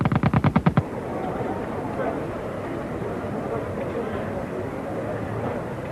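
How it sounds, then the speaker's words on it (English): A World War I machine gun firing a rapid burst of about ten evenly spaced shots lasting under a second, then giving way to a low, rumbling battlefield din. "Machine guns could now fire 600 rounds a minute."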